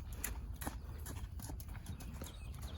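A young horse's hooves clip-clop in a steady trotting rhythm during its first long-line training session, fairly close, over a low rumble of outdoor background noise.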